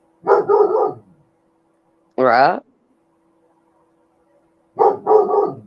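Puppy barking in short bursts at about one-second and five-second marks, close and fairly loud, with a brief spoken word between them in a quiet room.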